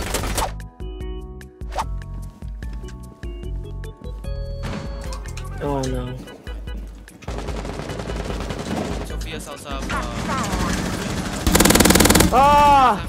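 Rapid video game gunfire fired through a wall, loud bursts of machine-gun-like shots and impacts over a busy game soundscape, with excited players talking over it.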